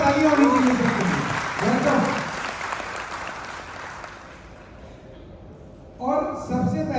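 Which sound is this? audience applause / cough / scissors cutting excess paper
audience applause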